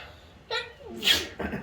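A single sharp sneeze bursts out near the middle, preceded by a short voiced inhale and followed by a brief murmur of speech.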